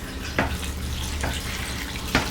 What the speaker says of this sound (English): fill it, just plain tap water, pour over top of the veggie scraps